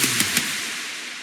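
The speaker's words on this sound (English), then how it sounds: "And the snare." Three crisp snare hits land in an evenly spaced run within an electronic melodic dubstep remix, sitting over a sustained washy pad and leaving a smooth reverberant decay, with no voices.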